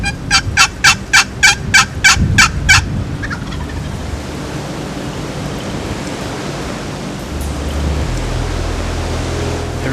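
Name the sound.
wild turkey gobbler gobbling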